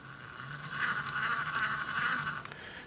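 The motor of an Element Knightrunner 1/10-scale Toyota Tacoma RC truck spins forward on a throttle test, a thin, steady electric whine that rises and holds for a couple of seconds, close and fairly quiet.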